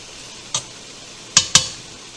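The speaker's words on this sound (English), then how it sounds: "So get it all good and stirred in." Three sharp clacks of a spoon against a pot while stirring pineapple mango habanero jam, one single knock and then a quick pair, close and distinct over a quiet background.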